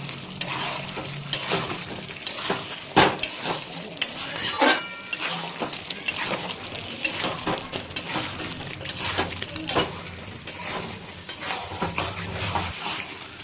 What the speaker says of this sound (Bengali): মাংসটা দেখুন আমাদের কিন্তু কষা চলছে